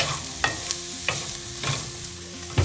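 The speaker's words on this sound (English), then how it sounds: "am keeping the veggies in the frying pan so they can fry, obviously" Vegetables fry in a frying pan in a small RV kitchen, a continuous sizzle punctuated by several sharp stirring scrapes and clicks, close by and with no voices.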